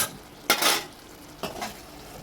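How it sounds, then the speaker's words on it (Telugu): Gongura paste being stirred into a simmering prawn curry in a pan, with two short scraping, splattering stirs about a second apart over a faint background. "సో ఇందులోని మనం గోంగూర పేస్ట్ని కలిపేద్దాము"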